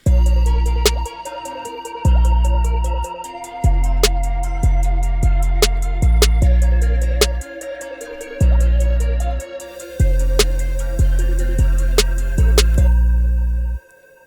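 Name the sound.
synthesizer pad phrase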